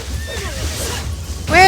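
A horse in the Samurai Warriors video game gives a sharp, loud neigh near the end, rising after a stretch of game noise and voice.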